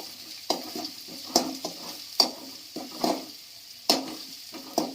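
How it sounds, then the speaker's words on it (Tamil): Onions sizzle steadily in a pan for an eggplant (brinjal) chutney, with a spatula scraping and stirring in regular strokes, roughly one every second, close and alone. "கொஞ்சம் வெங்காயம் வதங்கட்டும்."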